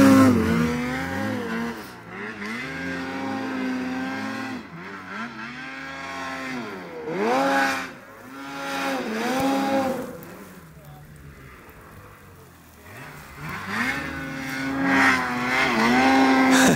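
A 146 snowmobile engine revs hard while climbing a snowy slope, its pitch repeatedly rising and falling in surges. Voices shout and talk over the engine noise at times.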